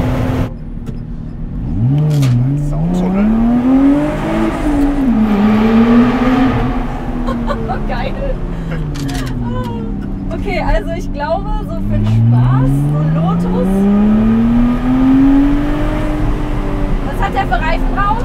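A Lotus Exige revs hard inside a tunnel, its engine note climbing and falling in loud sweeping pitch arcs that echo off the walls, with voices talking over it.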